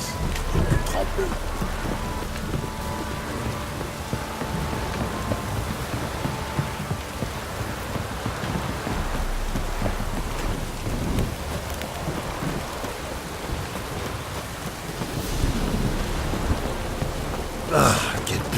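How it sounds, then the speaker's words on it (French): Heavy rain falls steadily in The Witcher 3 game, with deep thunder rumbling through the dense downpour and a brief louder crack near the end. "Si cette pluie s'arrête pas,"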